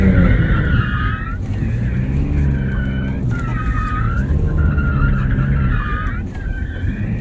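A 2023 Porsche 911 Turbo S driven hard around a track at the Porsche Experience Center, its tires squealing loudly in repeated bursts over a constant close engine and road roar.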